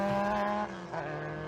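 Formula Vee race cars roar into the hairpin at Homestead during an SCCA Majors race, a loud, droning engine note that drops in pitch as the cars brake and downshift, followed by a slightly lower buzzing engine tone.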